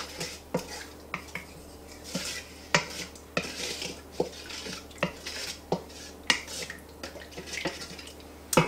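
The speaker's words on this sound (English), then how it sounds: "All I'm gonna do is stir those together." A spoon stirring salt, sugar and olive oil in a bowl for pizza dough: repeated sharp clinks and scrapes in a steady rhythm, close and fairly quiet, with no talking.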